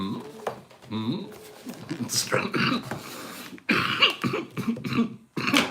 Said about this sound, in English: No, don't start coughing on them.